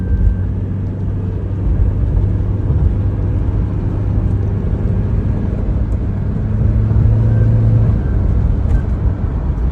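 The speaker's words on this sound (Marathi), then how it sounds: "आपण आता साऊंड ऐका आणि स्पीड पण बघा." A 2025 Toyota Fortuner automatic with an extra turbocharger, driven in sports mode, gives a loud, steady engine rumble from the cabin that swells slightly under acceleration, with no talking.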